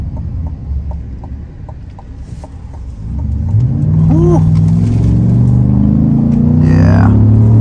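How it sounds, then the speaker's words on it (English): A 2024 Chevy Silverado 1500 High Country V8 with active exhaust rumbles low, then swells into a loud, sustained rev around the halfway point, with brief talk early on. "V8, I definitely prefer the Chevy performance. Got a third throttle, it just pulls. Beefy sounding active exhaust."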